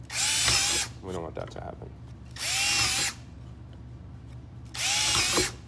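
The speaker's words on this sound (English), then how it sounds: "So what can happen as you're drilling through material, the back side of the material you're drilling through can splinter or chip." A power drill bores through material in three loud, steady bursts of about a second each, separated by pauses in which a person speaks.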